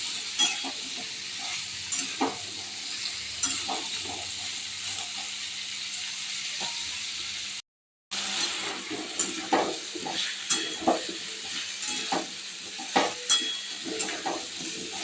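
Pumpkin with turmeric is sautéed in a pan, a steady sizzle broken by frequent scraping and tapping of a spatula, with a brief gap partway through.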